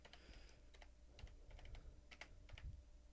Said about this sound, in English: my poor typing skills